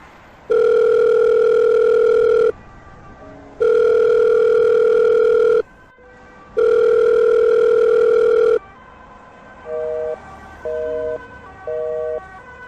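A telephone dial tone sounds in three long, steady blasts with short gaps, then gives way to three shorter, quieter ringback pulses of a call going through.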